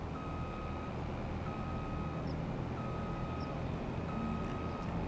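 Steady, evenly spaced reversing beeps from a farm vehicle backing up in Farming Simulator 25, repeating about every 1.3 seconds over a constant engine drone, with no talk.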